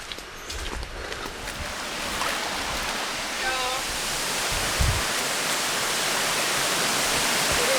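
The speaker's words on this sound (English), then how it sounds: "It's a waterfall." A waterfall in Vietnam roars steadily as broadband rushing water, loud and continuous throughout, with faint voices and a brief thump partway through.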